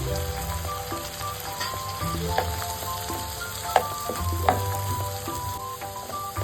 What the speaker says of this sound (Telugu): టొమాటోస్ని మంచిగా ఆయిల్లో మగ్గించుకోవాలండి